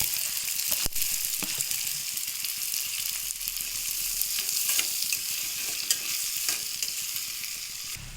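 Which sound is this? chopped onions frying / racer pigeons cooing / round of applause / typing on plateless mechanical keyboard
chopped onions frying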